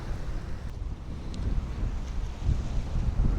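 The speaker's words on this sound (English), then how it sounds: "the mics do baffle the wind noise out" Wind buffets a microphone aboard a fishing boat at sea, a steady low rumble with gusty swells and faint water wash, no voices.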